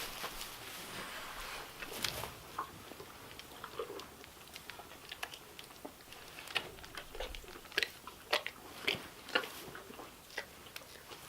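A young calf sick with scours chews after being dosed by mouth, making faint, irregular wet clicks and small crunches that come in quick scattered bursts, close by and quiet, with no voices.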